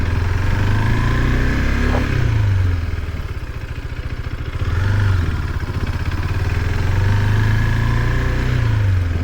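A 2024 KTM RC390 motorcycle being ridden, its engine droning loud and close with rising and falling revs as the throttle opens and eases, a brief dip in the middle, no talk over it.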